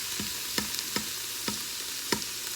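Beef bolognese from a jar stirred in an Instant Pot, a spoon scraping the pot in five or six evenly spaced strokes over a steady simmering hiss, close and moderately loud.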